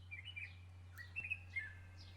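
Several birds chirp in short, bright bursts over a quiet background with a low steady hum, the calls fairly close and scattered irregularly across the moment.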